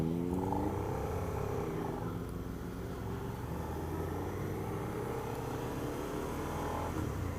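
A Suzuki SV650 motorcycle being ridden, its engine note a steady drone that rises and falls under constant wind rush, heard from on the bike with no speech.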